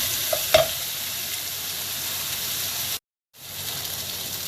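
Garlic, onions and beef frying and being stirred in a pan give a steady, close sizzle with a brief metallic clink near the start and a short moment of silence partway through.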